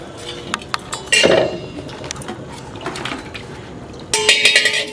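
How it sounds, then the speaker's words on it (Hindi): Dishes and pots clink and clatter while being washed quickly in a home kitchen, with scattered sharp metallic knocks and a brighter rattle near the end, over a steady background wash. "बर्तन धोइ ले छी जल्दी जल्दी"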